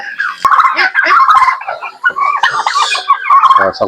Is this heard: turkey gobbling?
yes